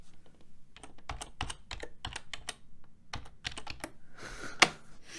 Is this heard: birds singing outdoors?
no